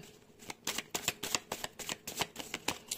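Tarot cards being shuffled by hand, a quick run of crisp riffling flutters and taps in an irregular rhythm, close and fairly quiet, with no talking.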